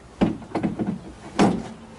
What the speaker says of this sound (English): So that's how a YJ door is supposed to go on and off.